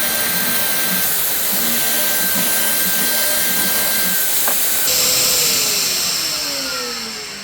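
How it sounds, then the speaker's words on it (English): Dust extraction vacuum running loud and close after drilling 15mm hardwood with a Trend pocket hole jig, a steady roaring hiss with a whining tone that shifts midway, then slowly winds down. "let's put the hoover on"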